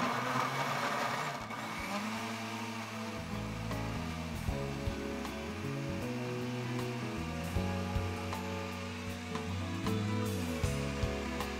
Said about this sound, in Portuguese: essa parte a gente bate no liquidificador